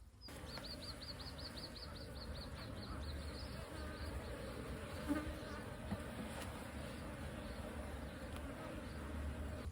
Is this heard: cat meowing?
no